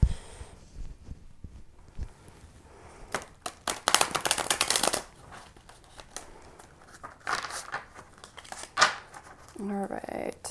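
Tarot cards riffle and snap in a few quick bursts, crisp papery flutters near the listener, with a voice talking quietly in between.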